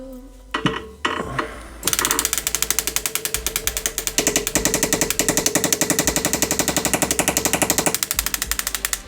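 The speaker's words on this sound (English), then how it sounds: "bring the hammer in from this side to try and push the metal across to cover the edge of the stone" A jeweller's hammer handpiece pushes metal over the edge of a stone in a ring setting. After a couple of seconds of scraping and clunks, it rattles steadily and quickly up close, a dense, unbroken mechanical tapping that runs to the end.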